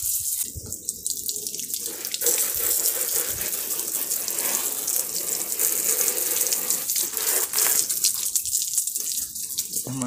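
Running water sprays and gushes steadily while rinsing detergent off a Honda Pop 100 motorcycle, a continuous close hiss of flowing water with brief shifts in intensity as the stream moves across the bodywork.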